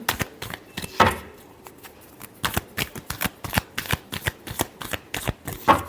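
Tarot cards being shuffled by hand in a steady series of crisp riffling bursts and flicks, close and fairly loud, with no talking.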